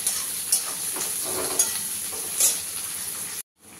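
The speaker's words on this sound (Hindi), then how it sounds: "हल्का सा प्याज का कलर चेंज होने तक भून लेते हैं।" Chopped onions fry in a pan for a chana dal adauri curry, giving a steady close sizzle with soft stirring scrapes, before the sound cuts out abruptly.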